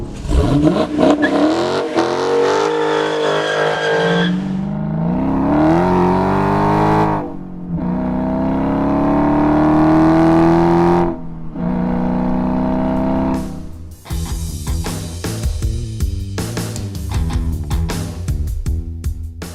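A Dodge Challenger 392 ScatPack engine revs hard several times from idle, loud and close, with rising and falling howls between brief pauses and a rumbling idle at the end.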